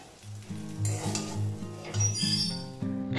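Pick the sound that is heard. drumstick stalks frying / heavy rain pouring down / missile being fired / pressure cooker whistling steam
drumstick stalks frying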